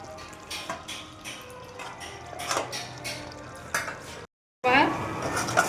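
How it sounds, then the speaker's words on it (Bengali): A pot lid lifts and a spoon stirs chicken and potato curry, giving rhythmic scraping and soft sizzle, a brief dead gap, then louder metallic clatter and frying. "আবার ঢাকনাটা তুলবো, নাড়া দেবো।"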